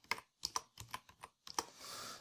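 Computer keyboard typing during touch typing practice: a quick, irregular string of close, crisp key clicks, ending in a brief soft rushing noise.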